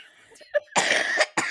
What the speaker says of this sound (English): This cough is getting on my tits.